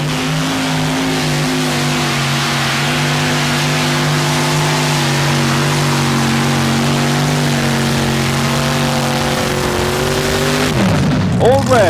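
A modified pulling tractor running two crank-to-crank engines at a 1987 TNT tractor pull in Fort Wayne, Indiana, roars loud and sustained at a steady high pitch, then cuts off abruptly near the end, with an announcer talking over it.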